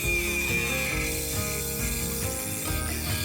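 A small underpowered rotary Dremel tool grinds through a thin metal cat-food can, giving a steady whirring buzz with a faint rattling grind that rises and falls slightly.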